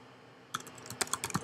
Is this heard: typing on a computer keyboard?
yes